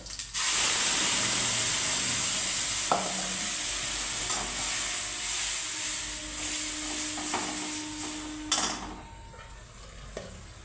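Mustard seeds, cumin and ground spice paste fry in hot oil in a home kitchen, giving a steady close sizzling hiss throughout with a few scraping stirs and clinks.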